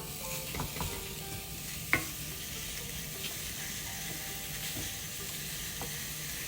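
Zucchini slices laid across a hot ridged skillet give a steady, close frying sizzle with a few soft clinks and scrapes of handling, and no talking.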